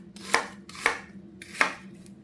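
An onion being chopped on a cutting board, three distinct, sharp knife strikes spaced unevenly, close and clear with no voices.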